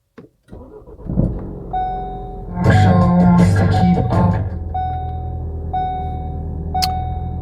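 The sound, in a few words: Ford RS car being started, with warning alerts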